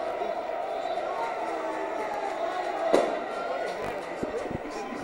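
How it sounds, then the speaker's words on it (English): Burnley football fans in a stadium crowd at a Stockport County match, cheering and chanting a steady wash of broad noise with a brief louder swell midway and a few sharp knocks near the end. "A sporting bit of play there from the Burnley fans, cheering the Stockport fans there, shouting Wembley"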